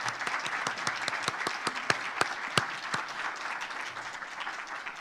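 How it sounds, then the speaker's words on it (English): An audience applauding panelists at a Women's Alliance event on dying well, a fairly quiet roomful of steady clapping with a few sharp, distinct claps standing out. "a round of applause for our panelists"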